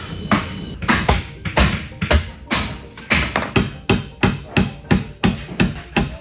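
Hammer driving nails into wooden framing studs laid on the ground, a steady series of about fifteen loud, sharp blows at a regular rhythm, close by with no talk.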